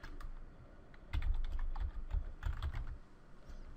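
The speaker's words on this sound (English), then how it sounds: "So we can just type it up top here if we wish." Someone types on a computer keyboard close by, a quick run of soft key clicks in two short bursts with a brief lull between them.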